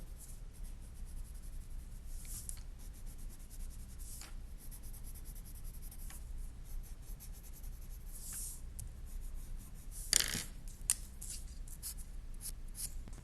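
Colored pencil shading across paper while drawing a street-art-inspired face: a soft, steady scratchy rub runs throughout with brief louder strokes, close and quiet, with no speech.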